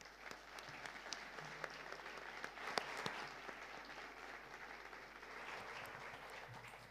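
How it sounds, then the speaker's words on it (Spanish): Sustained applause from a conference audience honoring Ibero-American mayors at a forum panel, a broad even roar of many hands clapping with a few sharper close claps standing out, fairly distant and unbroken. "les pido me acompañen en un aplauso para ellos"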